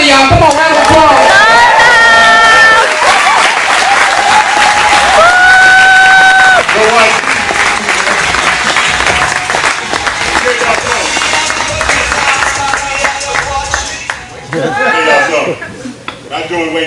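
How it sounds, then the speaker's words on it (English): Loud applause from a crowd at a home business event, mixed with cheering and whooping voices, carries on for most of the clip before easing slightly near the end. "Come on, round of applause."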